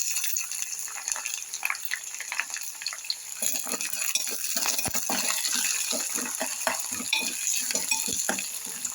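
Onion pieces and curry leaves frying in oil after mustard seeds have popped: an irregular sizzle with crackling pops and a few clinks, quieter at first and then busier and denser.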